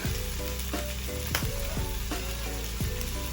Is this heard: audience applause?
no